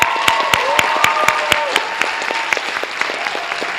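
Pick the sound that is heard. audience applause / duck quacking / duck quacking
audience applause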